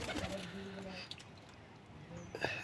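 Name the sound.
pigeons cooing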